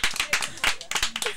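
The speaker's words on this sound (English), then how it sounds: "See, she gets a round of applause." A studio audience gives a short burst of clapping, a quick uneven patter of hands that stays moderately close, with some voices mixed in.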